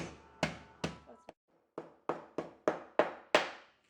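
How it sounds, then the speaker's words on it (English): Repeated sharp pounding thuds of a mallet crushing spices, including black pepper, about nine blows in a loose irregular rhythm, close and fairly loud, with brief pauses between. "now we have our mallet, and please pardon the noise."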